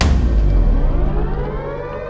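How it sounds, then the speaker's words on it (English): A loud, sustained military base attack-warning siren wail fills the clip, droning steadily on its own with no voices. "The siren goes off."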